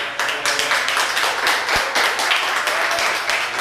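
A church congregation applauds together during a worship service, a dense, steady wash of clapping with a few sharper slaps standing out, sustained for several seconds at close range.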